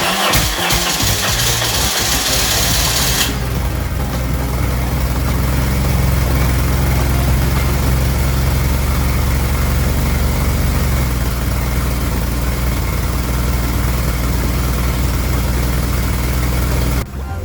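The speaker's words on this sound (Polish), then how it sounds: "uruchamiamy silnik" A BMW R1150 GS boxer motorcycle engine idles steadily and loudly close by during throttle synchronization, a low constant rumble with no change in pitch.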